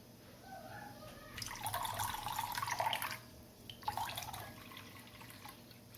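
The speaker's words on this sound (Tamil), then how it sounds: "இப்போ ஐஸ் வாட்டர் வந்து ஊற்றலாம் 2 கிளாஸஸ்" Ice water splashes and trickles into a container in two bursts while making lemonade, with a steady low background hum throughout.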